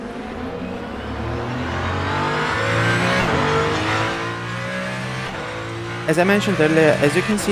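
A Ferrari race car in a sim racing game, its engine droning loud and steady, rising and falling with revs before a quick burst of shifting near the end, while someone talks over it throughout.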